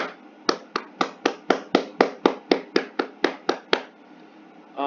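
Sharp hand claps land one after another in a steady counted rhythm, about fourteen crisp, close strikes over several seconds before falling silent.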